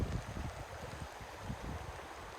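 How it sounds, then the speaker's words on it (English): A river in northern Norway rushes past steadily in the rain, a continuous close broadband wash of water with low gurgling turbulence and no voices. "And listen to the rain and then the river flowing."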